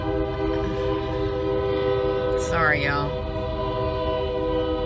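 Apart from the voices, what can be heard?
passing train with horn at railway crossing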